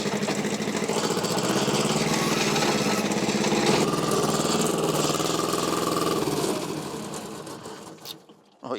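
A small 11–12 horsepower diesel engine fitted in a tractor runs with a loud, steady close-up chatter for several seconds, then winds down and falls away near the end.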